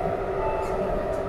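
A Namo Bharat RapidX regional train on the Delhi–Meerut line slows as it nears the Duhai depot, giving a low, steady rolling rumble with a faint hum, heard briefly and alone without talk.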